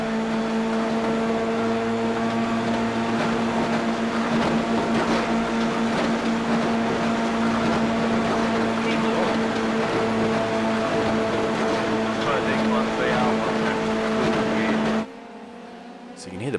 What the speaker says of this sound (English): So you can hear the car bottoming out there.